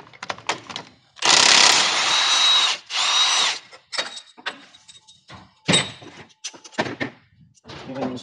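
A power tool with a 22mm socket zips off a part on a Can-Am X3, two loud close bursts of whirring, then a shorter burst among clunks and knocks of tools and parts.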